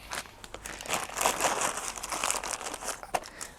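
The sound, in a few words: Ziploc plastic bag being handled, crinkling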